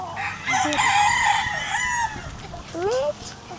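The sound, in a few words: chickens clucking and rooster crowing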